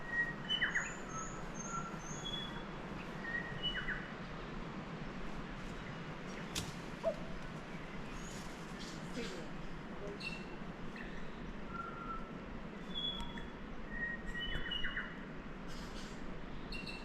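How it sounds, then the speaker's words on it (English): Fantails and other birds singing in Fiordland wilderness beside Doubtful Sound, with scattered high chirps and short calls over steady broadband background noise, fairly distant and moderate throughout. "More little fantails."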